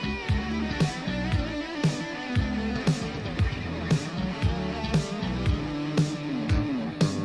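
Music with regular drum hits and a smeared, washy repeating tail behind each note, as excessive delay echo piles up and muddies the mix.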